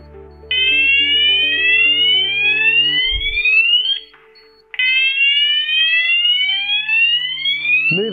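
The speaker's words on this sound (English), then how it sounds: "generate a fire level 1 alarm that then expands to a fire level 2 alarm" A local level 1 fire alarm from a flat and apartment fire alarm system sounds loudly and close, repeating rising electronic sweeps with a steady low buzzing tone beneath, pausing briefly once before starting again.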